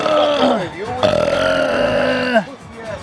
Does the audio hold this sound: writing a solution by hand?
no